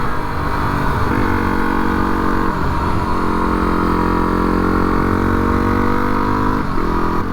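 A Yamaha WR250R motorcycle is ridden with a continuous, loud mid-pitched engine note. Small shifts in pitch come and go as throttle and gears change, and there is no talking.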